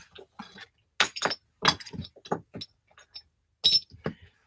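Glass and metal tiles in metallic charcoal and silvery colours being knocked off a surface, giving a run of sharp clinks and rattling chinks in irregular bursts, close and fairly loud with brief pauses between.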